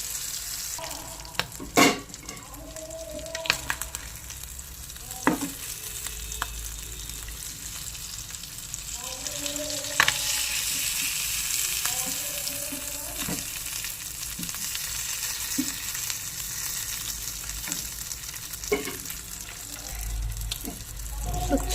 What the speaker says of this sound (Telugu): స్లోగా పెట్టి మనం ఫ్రై చేసుకుంటే లోపల వరకు కుక్ అవుతుంది